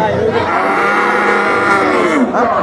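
A cow lets out one long, loud, drawn-out moo that fills the whole moment, with a crowd murmuring faintly underneath at a cattle market.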